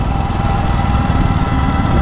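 Motorbike ride through a Cambodian town on the way from a local festival: a steady, loud engine drone with constant rumble and wind, running alone without a break.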